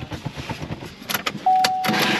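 Keys jangling against a Chevrolet car's ignition where the key is stuck, a quick series of metallic clinks and rattles close up, followed by a steady electronic chime tone.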